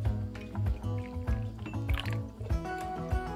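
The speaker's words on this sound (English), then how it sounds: "Let me pour us some of this mojito blackberry tea." Mojito blackberry tea pours into a cup in a steady, close liquid stream, with faint dripping and gurgling under music or background tones.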